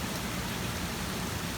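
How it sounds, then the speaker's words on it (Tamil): Heavy rain pours steadily outside in an evening downpour during a thunderstorm and flood alert, a dense, even hiss with no break or voices. "நல்ல மழை 6:30 தான் ஆகுது, அவ்வளோ மழை பெய்யுதுங்க"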